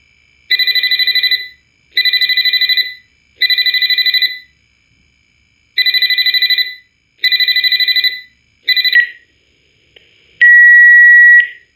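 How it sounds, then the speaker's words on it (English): A telephone rings in the Five Nights at Freddy's fangame Graveyard Shift at Freddy's, sounding as loud repeated electronic trills in regular bursts, then a cut-off ring and a click as the call is picked up. "the game starts with an empty room and a phone call"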